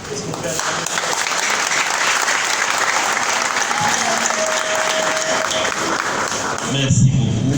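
A church congregation breaks into loud, dense applause with cheering voices mixed in, continuous for several seconds, with a brief rise in crowd noise near the end.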